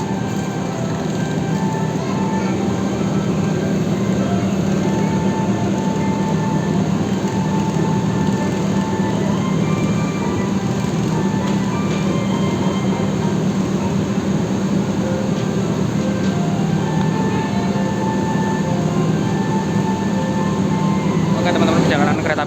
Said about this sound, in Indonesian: perjalanan kereta api Cikuray masuk stasiun Cikampek ya, masuk jalur 4 ini ya